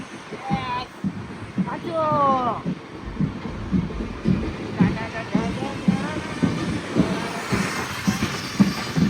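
A moving train rumbles and rattles underneath, while people talk loudly nearby over the running noise.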